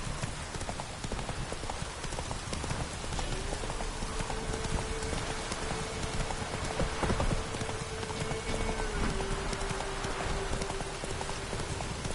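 Horse hooves clip-clopping in The Witcher video game, a steady trotting rhythm under a constant rain-like hiss and a faint tonal hum.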